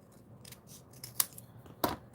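Scissors snip through craft scrap paper in a few sharp, separate cuts, close and quiet with no voices.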